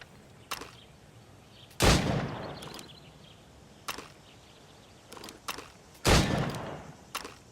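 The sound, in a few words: gunshots shooting targets in video game Assassin's Creed Rogue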